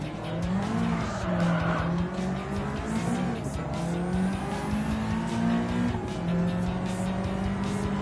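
Turbocharged race car in Gran Turismo, its engine droning loud and steady under hard running, with tire squeal and skidding mixed in throughout, no voices.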